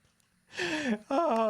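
A Minecraft goat gives two quick, nasal bleats, each wavering in pitch, with the second shorter and separated by a brief pause against a quiet background.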